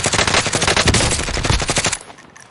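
Loud, close automatic gunfire in the video game Warzone, a fast rattling burst of rapid shots lasting about two seconds before cutting off.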